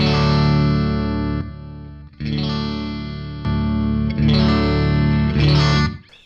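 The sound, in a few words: Muzzsimp pedal boost section into a tube amp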